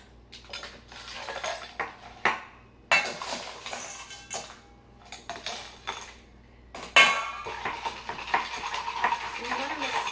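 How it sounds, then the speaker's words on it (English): A cocktail stirred with ice, with bursts of clinking and rattling of ice against glass and a bar spoon, irregular strokes separated by short pauses, close and fairly loud, no talking. "I'm gonna give that a quick stir, and we're gonna start adding ice and adding dilution."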